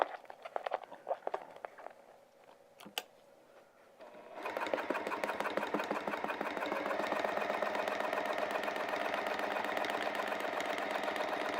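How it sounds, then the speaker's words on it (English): Sewing machine stitching across a vinyl project bag with a universal size 80 needle: after a few quiet handling clicks, the motor starts and runs in a fast, steady, rhythmic whir to the end. "now I'm going to sew all the way across here"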